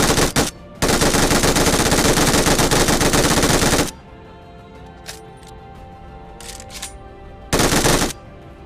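Rapid automatic gunfire in a battle royale shooter game, with two loud sustained bursts, one long and one short, separated by quieter background game ambience with faint clicks.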